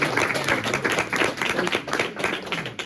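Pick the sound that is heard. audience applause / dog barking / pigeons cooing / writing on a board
audience applause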